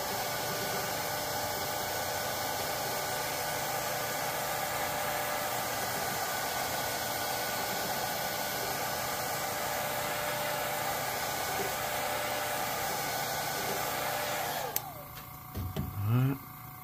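Hair dryer on low heat blowing over fresh airbrushed paint on a Hinko Mini KO figure, a steady continuous whooshing hum that runs close and even before switching off near the end, followed by faint handling noises.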